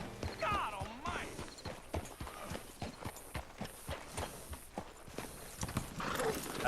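A horse in Red Dead Redemption 2 walks with a steady run of clear hoof clops, a whinny rising near the start and again at the end, set against faint ambient background.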